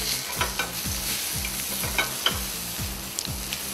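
Food with butter, rosemary and garlic sizzles steadily in a pan while a utensil stirs it in a regular scraping rhythm, roughly every half second, up close and alone.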